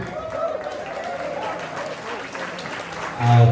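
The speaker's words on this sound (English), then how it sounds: "Thanks for the lovely applause all night." Audience applause at a set dance night in a hotel ballroom in Ballyvourney, a steady wash of many hands clapping with crowd murmur, then a voice cuts in near the end.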